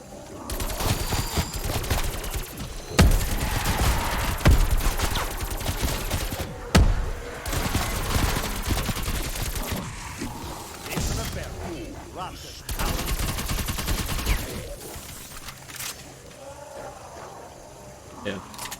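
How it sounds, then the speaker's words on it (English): Sustained automatic gunfire from a Call of Duty Zombies match, loud and near, firing in long bursts with brief pauses as zombies are shot down. Faint game noises and a voice are mixed in. "I just get to sit here and shoot zombies"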